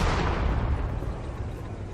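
A smoke grenade goes off in the WWII strategy game Sudden Strike 4, at the Battle of Stalingrad, giving a dense, steady rushing hiss with low rumble that eases off slightly over two seconds, with no voices.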